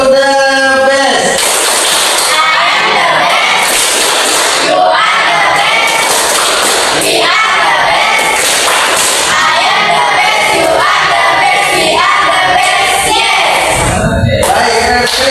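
Classroom group clapping chant led by a teacher for a student group, loud rhythmic claps with children's voices shouting along throughout, bursts of cheering between beats.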